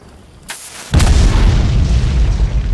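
A cartoon candle packed with gunpowder goes off in a loud, deep boom after a brief sharp pop, leaving a long rumbling tail.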